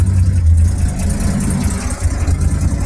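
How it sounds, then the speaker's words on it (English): Daimler Ferret armoured car engine idling while warming up, a steady low, throbbing rumble heard up close and alone. "with the engine ticking over nicely."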